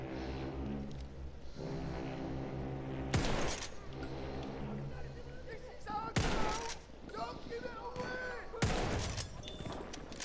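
Gunfire from a weapon in the shooter game Battlefield 1, three loud sharp bursts spaced a few seconds apart over steady game background noise and low talk.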